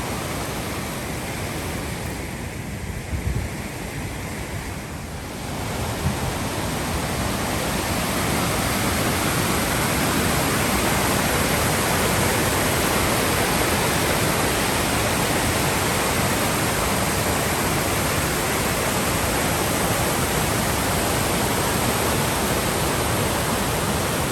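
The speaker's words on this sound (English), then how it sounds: "You can tell there's a waterfall there" A waterfall in Castleguard Meadows gives a dense, steady roar that rises slightly after a few seconds and then holds loud and unbroken, with no voices.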